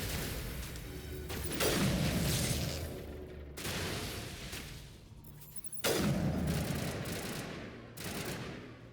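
Bursts of automatic gunfire from a shooter game firing on Geth enemies, in several loud rapid volleys separated by short pauses, with heavy booming impacts.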